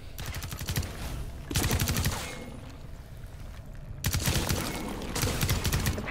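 Bursts of rapid automatic gunfire in the Rainbow Six Extraction video game, two long loud volleys separated by a quieter stretch of background game noise.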